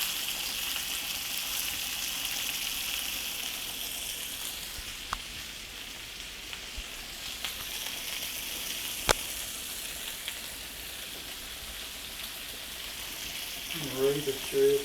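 Smoked sausage frying in a pot, giving a steady, soft sizzle throughout with a few faint clicks and brief scraping or stirring noises near the end.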